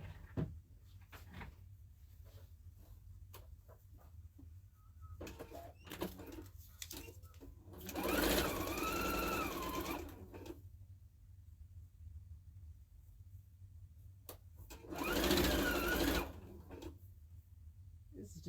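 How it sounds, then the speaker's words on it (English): A sewing machine stitches fabric sewn right sides together in two loud whirring bursts of a couple of seconds each, with quiet handling clicks and rustles in between. "I'm going to sew right sides together here. I'm going to sew it in a little loopy."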